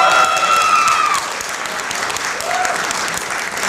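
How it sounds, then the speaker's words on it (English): A forum audience gives a steady round of applause to welcome a speaker on stage, many hands clapping together at moderate distance, with a voice briefly audible at the very beginning. "So can you welcome her with a big round of applause?"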